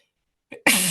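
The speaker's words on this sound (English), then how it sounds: "Just sneeze on air." A single sharp, close sneeze bursts out after a brief quiet intake of breath.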